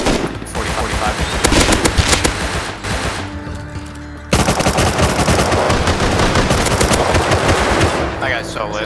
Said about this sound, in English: Start shooting now.